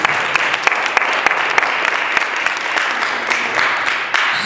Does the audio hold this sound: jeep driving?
no